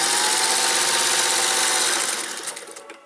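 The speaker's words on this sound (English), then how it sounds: "I can just sew right across this." A sewing machine stitches across an apron with a steady loud whir for about two seconds, then slows and winds down to a stop.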